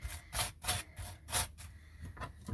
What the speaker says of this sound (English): Toast is done, so I'm just going to put a bit of butter on